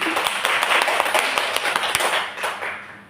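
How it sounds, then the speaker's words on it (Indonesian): Teachers at a school training session give a round of applause for the presenter, a brisk burst of many hands clapping that fades slightly toward the end. "Sekali lagi kita memberikan aplaus untuk pembawa materi"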